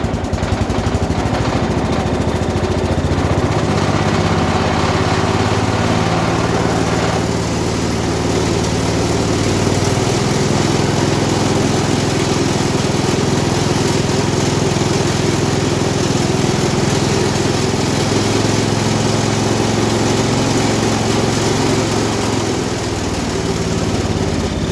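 The engine of a 1967 Gravely 430 tractor runs at raised throttle, a loud, continuous droning roar that holds steady throughout.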